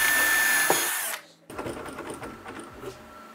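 A power screwdriver drives 30 mm connector screws into kitchen cabinet frames, buzzing loudly for about a second before stopping, followed by clattering handling noises.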